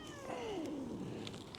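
A cat gives a low, drawn-out growling meow while being fitted into a harness, a single faint sliding call heard up close against quiet room noise.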